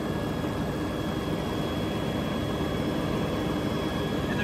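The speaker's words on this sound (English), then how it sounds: "this is a regen. It's just starting on my LS tractor." An LS tractor's diesel engine runs at a steady, loud, even drone during an exhaust regeneration cycle, with a brush hog attached, the constant rumble and hiss filling the whole stretch alone.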